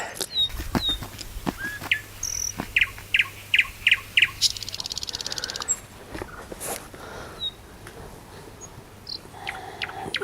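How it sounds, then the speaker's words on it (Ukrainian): A nightingale sings outdoors beside a reservoir, repeating bright chirps and a fast rattling trill over a hissy background of insects and other birds, moderately near and with no talk. "Як же гарно в нашій країні соловушка співає."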